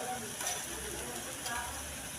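Chicken liver fries in a pan with a steady, quiet sizzle and a few stirring scrapes throughout.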